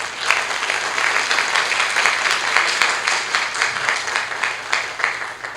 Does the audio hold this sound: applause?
yes